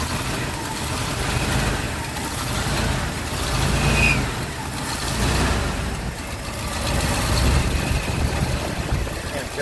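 An old truck engine idles roughly with heavy exhaust leaks, giving a steady rumbling, sputtering drone that swells and eases slightly throughout, close and loud.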